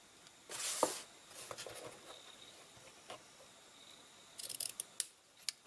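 Scissors snip ribbon to length for a small boxed paper-craft album, a few faint close cuts, one near the start and a quick cluster of snips toward the end, in a quiet room.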